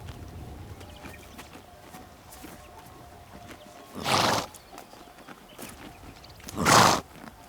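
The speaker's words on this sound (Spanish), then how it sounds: "Después llega el ruido. Relinchos." Two loud neighs from Pottoka stallions, wild horses of the Basque hills, ring out a few seconds apart over a steady outdoor background of wind and rustling.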